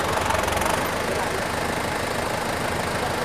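A New Holland T5060 tractor idles nearby with a steady, rough mechanical drone and a faint knocking pulse. Someone talks briefly over it at the start.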